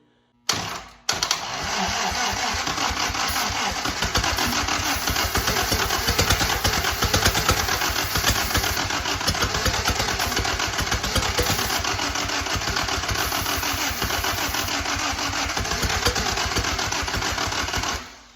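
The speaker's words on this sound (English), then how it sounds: "I had 3 and 2 backwards, so that could be part of why I'm backfiring." A WWII-era vehicle engine with two spark plug wires swapped in the firing order runs loudly and close for the whole stretch, a steady rough chugging with a sharp early bang and uneven pops.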